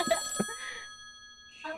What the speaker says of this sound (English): Do you hear a phone ringing?